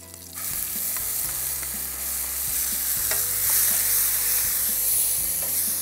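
Coconut paste and spices fry in hot oil with curry leaves, giving a loud, steady sizzle and hiss. Occasional stirring clicks come through, close up, with no talking.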